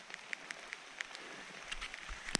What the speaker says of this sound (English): it's pretty cool sound, all those raindrops hitting the leaves.